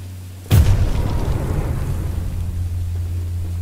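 A single heavy rocket launcher blast in Choo Choo Charles, a sudden loud boom followed by a long low rumbling decay, with no voices.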